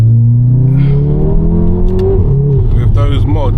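A fully catted Golf R's engine hums loudly and steadily from inside the car while it is driven, shifting pitch as it pulls, with faint crackles near the end; someone talks over it.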